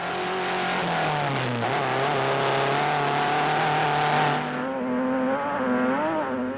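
Onboard engine of a Nissan rally car racing in the 2005 Nissan Dealer 400, loud and close, its pitch climbing and dropping through gear changes as it revs hard, with a brief dip before surging again.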